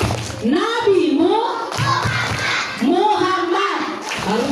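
Children at a Maulid Nabi celebration clap their hands together in rhythmic bursts while chanting in unison, the claps sitting under the steady sung and spoken group voices.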